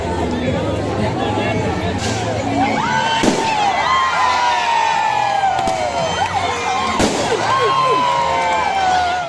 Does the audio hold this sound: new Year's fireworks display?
yes